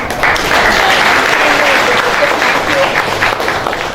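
An audience claps for the team at the opening of the 36th branch of Pakashala hotel, a dense, loud, sustained burst of applause lasting several seconds.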